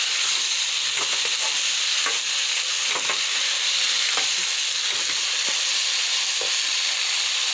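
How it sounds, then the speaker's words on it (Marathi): Okra and tomatoes sauté in a hot pan, giving a loud, continuous close sizzle with faint stirring scrapes now and then and no talk. "तर आता मी घालत आहे भेंडे. टमाटर घातले, परतून घेते."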